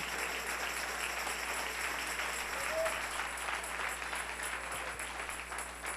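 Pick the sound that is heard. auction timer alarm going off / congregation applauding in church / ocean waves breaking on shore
congregation applauding in church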